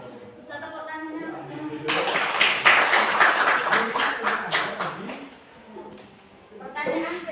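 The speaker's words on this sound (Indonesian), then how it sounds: "Bisa tepuk tangannya?" A classroom of students in an accounting lesson claps for a few seconds, a burst of scattered handclaps between stretches of a teacher's talk, with voices heard underneath.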